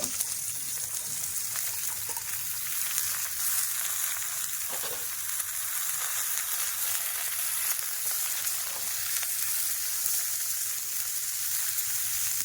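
Vegetables for a Bengali shukto fry in hot oil in a pan with a steady, dense sizzle that holds evenly from start to finish, close and fairly loud, with no voices.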